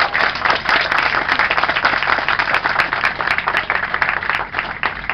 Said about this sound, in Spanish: Un aplauso a Evelyn de la comunidad.